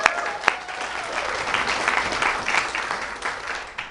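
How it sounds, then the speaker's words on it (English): A crowd gathered for H-E-B's announcement of its first Lubbock store claps loudly and continuously, with a few sharper claps standing out near the start. "you can cheer for barbecue"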